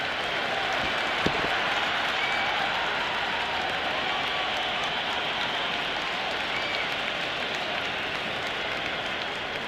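Big stadium crowd at an IPL cricket match between RCB and CSK roars and applauds after a six, a steady, dense wash of cheering and clapping that holds loud and even throughout with no voices standing out.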